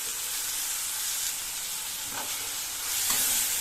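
Ground tomato mixture sautéing in a pan for oyster mushroom fry, a steady close sizzle and hiss with occasional stirring scrapes, no voices.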